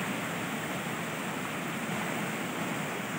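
River water on a rural Quezon property rushes in a steady, dense broadband hiss, constant and fairly close with no voices.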